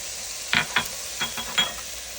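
Ginger and green onions stirred into hot sesame oil in a pan, a soft steady sizzle with a few quick scraping stirs and clatters close by.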